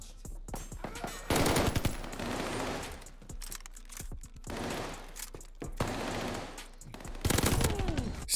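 Rapid automatic fire from a Vargo S assault rifle in Call of Duty Vanguard, loud sustained bursts of gunshots with brief lulls, layered with in-game battle noise.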